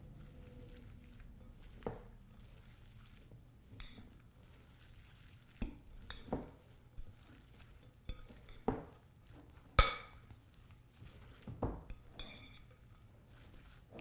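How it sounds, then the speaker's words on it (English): A fork mixes zucchini fritter ingredients in a bowl, giving quiet, scattered clinks and taps against the bowl with soft scraping between them and irregular pauses. "Use a fork to mix everything here together."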